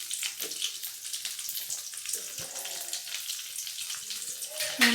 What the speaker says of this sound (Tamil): இப்போது ஆனியன் நல்லா ஃப்ரை ஆகிடுச்சு.